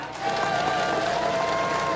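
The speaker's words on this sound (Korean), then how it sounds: "우리 김문환 의원님께 다시 한번 큰 박수 부탁드리겠습니다" A crowd at an outdoor street election rally gives a speaker a round of applause, a steady wash of clapping rising quickly and holding, with a faint tone lingering underneath.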